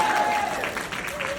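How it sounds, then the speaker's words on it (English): Audience applause from a live creation panel event, a brief dense patter of many hands clapping at steady loudness, with a voice briefly audible over it. "Round of applause for Matt Cohen. And a round of applause for Alex Calvert"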